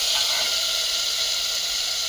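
Garlic paste fries in a pan for a vegetable soup, giving a steady, close, bright sizzling hiss that holds evenly throughout without breaks.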